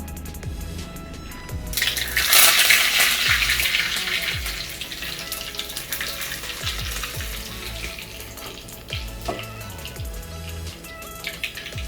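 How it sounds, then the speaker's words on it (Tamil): Mustard seeds and curry leaves tempering in hot oil for carrot onion raita, a dense steady sizzle that swells early and then settles, with occasional low knocks beneath. "இப்போ கடுகு, கருவேப்பிலை தாளிச்சாச்சு"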